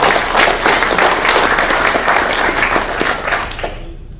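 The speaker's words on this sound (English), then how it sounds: "I'm going to have you folks all clap for these two." Audience clapping for two people at a prairie conversation event: loud, close, continuous applause from a room full of people, tapering off over the last second.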